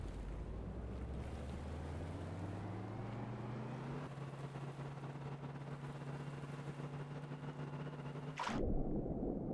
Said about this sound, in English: I love every time you accelerate in the water, it sounds like the engine's about to die